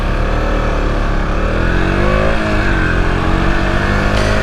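A loud, high-pitched Husqvarna Svartpilen 200 motorcycle engine drones continuously up close, its buzzing tone shifting slightly in pitch as the throttle changes.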